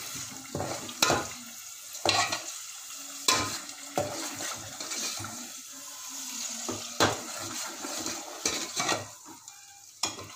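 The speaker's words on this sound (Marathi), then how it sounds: "मोहरी उडत आहे, तळतळ उडत आहे." Mustard seeds splutter and fry in hot oil at the start of a chicken curry, giving a steady close sizzle broken by sharp scattered pops and the occasional scrape of a stirring utensil, with no talking.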